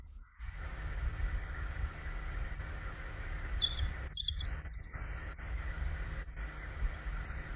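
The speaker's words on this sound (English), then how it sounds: "great crested tern, or lesser crested tern calling, begging" Thin, high-pitched begging calls of a great crested tern or lesser crested tern come in short bursts over a constant background hiss and insect-like buzzing.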